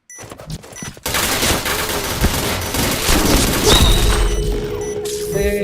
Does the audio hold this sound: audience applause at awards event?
no